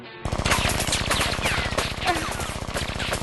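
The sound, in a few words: gunfire in an anime episode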